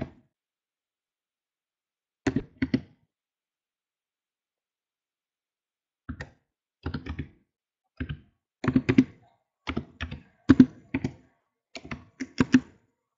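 Bursts of computer keyboard typing as a web link is entered, clusters of quick clacking keystrokes separated by pauses, close and clear with no talking.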